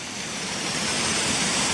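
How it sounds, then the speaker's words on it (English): A small waterfall beside a footpath toward Gunnerside Gill rushes in a steady, close, broadband hiss of falling water, heard alone with no voices. "I've just stopped with this little bit of a waterfall just beside this footpath new sign."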